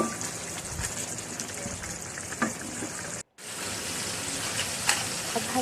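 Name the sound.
mutton korma frying in oil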